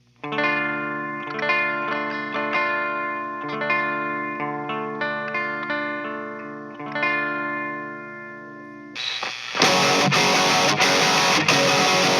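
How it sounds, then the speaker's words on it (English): Clean electric guitar from a Schecter or ESP, strummed chords and ringing notes in a steady pattern for about nine seconds, then an abrupt switch to a loud, dense distorted tone to the end. "So I'm going to show you a clean tone."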